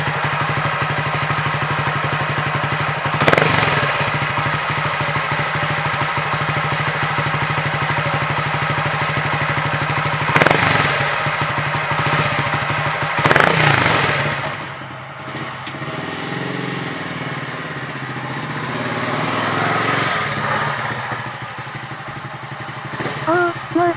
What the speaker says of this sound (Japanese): 滑らかなエンジン音が心地よいです